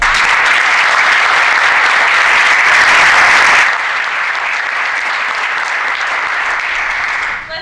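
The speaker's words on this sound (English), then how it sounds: "I would like to just give one more round of applause for our finalists." Audience at a college business pitch competition gives the finalists a loud, sustained round of applause, dense clapping that drops slightly partway through and carries on until fading at the end.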